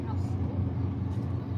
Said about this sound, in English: we have a big tour vessel that's about to come by, and you might be able to hear the engines right now